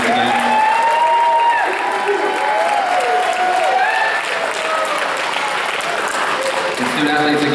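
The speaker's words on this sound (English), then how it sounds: "All right, let's give a round of applause." Crowd applause and cheering for student-athletes at a high school national signing day, loud and sustained throughout, with voices and shouts mixed into the clapping.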